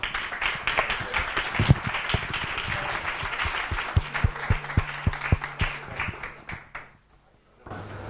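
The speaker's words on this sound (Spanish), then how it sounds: "Así que un aplauso." Audience applause at a conference fills the room, dense clapping that thins into scattered individual claps before fading to near silence, with a voice starting up at the very end.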